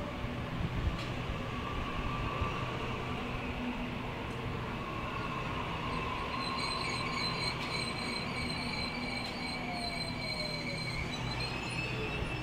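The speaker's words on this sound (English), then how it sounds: "The A19's now departing for a city service. This is departing platform 3." Sydney Trains A19 passenger train departing Harris Park platform 3 on a city service, a steady loud rumble of wheels and motors with high squeals and faint clicks building through the passage, no talk.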